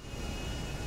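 Steady broadband engine roar from the Miljet airplane in GTA Online, a continuous even jet drone with no pauses and no voices.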